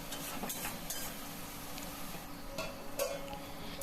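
Spice paste and yogurt stir-fried for a katla fish curry: a steady, faint sizzle with scattered light scrapes and clinks of a spoon against the pan, with no talking.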